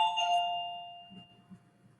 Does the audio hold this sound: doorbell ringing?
yes